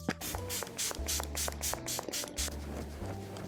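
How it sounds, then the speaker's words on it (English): Several quick hissing spritzes of Milani Make It Last makeup setting spray puff out in succession, close and fairly soft. "This is the original natural finish spray."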